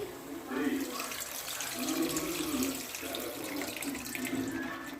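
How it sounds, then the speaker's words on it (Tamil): Tamarind water poured into an okra curry in a pan, a steady running, trickling pour heard close and moderately quiet, with faint murmuring in the background. "இப்போ நம்ம புளியை கரைச்சி ஊற்றிக்கலாம்."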